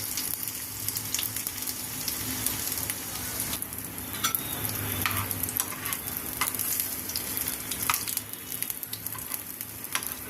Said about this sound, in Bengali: একবারে দুটো করে ফ্রাই করে নিই।